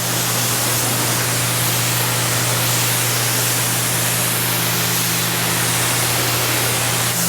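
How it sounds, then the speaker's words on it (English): Steady, loud spray of a 1200 psi pressure washer with a 40-degree nozzle rinsing a dirty car, bug-spattered with paint protection film, hissing continuously close by alongside a constant pump hum. "step 1 is to rinse it. Same 1200 psi,"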